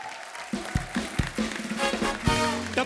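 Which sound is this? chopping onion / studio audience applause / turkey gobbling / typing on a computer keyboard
studio audience applause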